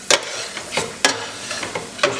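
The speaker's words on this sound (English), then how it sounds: "Just mix that tomato puree through, just for a few minutes" Spoon stirring tomato puree as it sizzles in a curry pot for chicken dhansak, with roughly five distinct scraping strokes over a steady close frying hiss.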